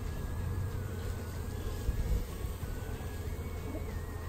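Bees buzz as they fly around an outdoor hive by a lake, a soft continuous drone with faint passing whines, fairly distant and quiet, with no voices.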